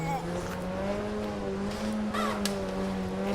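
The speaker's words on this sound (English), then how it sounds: "Pulling the handbrake." Engine howl from a car drifting on a snowy track in the Automobilista racing game, a steady, droning note that slides slightly in pitch with a short squeal, heard alone without talk.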